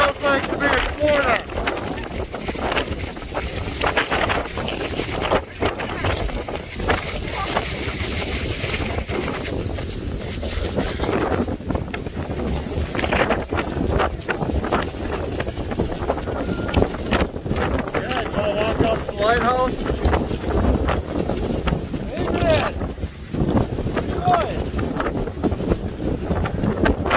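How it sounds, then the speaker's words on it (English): Strong, gusty wind blows outdoors on the Lake Superior shore by a marine museum, a loud continuous roar battering the microphone through the whole stretch, with a voice talking over it. "Super windy out here."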